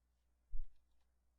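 A single soft mouse click on a computer, one brief near tap followed by a faint trailing rustle, then quiet.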